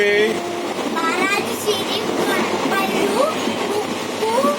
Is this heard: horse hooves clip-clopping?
no